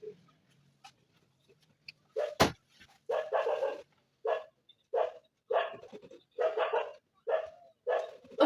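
Several dogs bark repeatedly a short way off, a run of sharp, fairly loud barks in uneven bursts with short gaps, after a quieter stretch.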